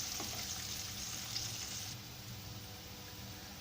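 Chopped onion frying in a pan gives a steady, close hiss and sizzle throughout, with a soft clink near the start and no talk over it.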